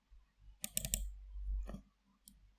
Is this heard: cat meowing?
no